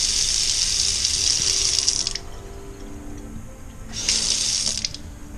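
A household tap runs in bursts after a new gas water heater and water lines are fitted, a bright hiss of flowing water for two seconds, then a quieter pause, then a second short run.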